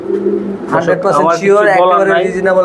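A female pigeon coos softly with rolling, throaty calls, close by, while someone talks over it.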